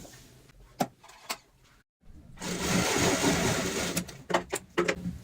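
A sewing machine runs a loose basting seam along cushion cover fabric. The clip opens with a few sharp clicks and handling knocks, then a short continuous whirring stitch run follows, and more taps and clacks come at the end.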